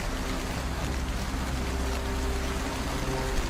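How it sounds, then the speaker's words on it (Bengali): Steady monsoon rain pours in a Bengali cartoon story on a dark, cloudy Ashar day, a continuous close wash of dense patter with no voices. "মাঝে মাঝে বৃষ্টি ঝরে পড়ছে"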